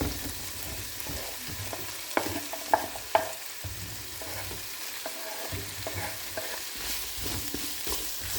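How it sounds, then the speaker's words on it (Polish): Bell pepper and sausage sizzle steadily in a frying pan while being stirred, with a constant crackling hiss and a few sharp clicks of utensil against the pan, close and without talk. "Kiełbasę mamy lekko podsmażoną. I dodajemy paprykę."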